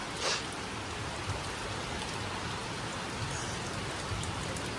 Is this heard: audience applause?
no